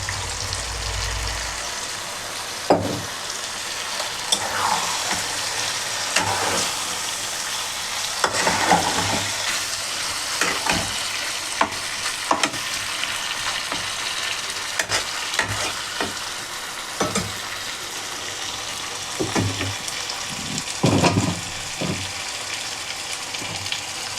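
Chicken pieces fry in a hot pan for chicken do-pyaza, giving a steady, close sizzle throughout, broken by frequent scraping and clinking as a spoon stirs the meat.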